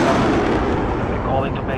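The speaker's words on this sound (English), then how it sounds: "Enemy precision airstrike inbound." Precision airstrike explosions in Call of Duty: Modern Warfare form a loud, continuous booming roar of heavy blasts rumbling together with no pause.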